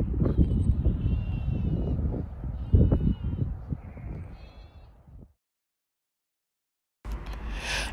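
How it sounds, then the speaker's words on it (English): Sheep bleat repeatedly on a hike, with several wavering calls close by over the first five seconds. A short silence follows before a burst of rustling noise. "Magnificent sheep."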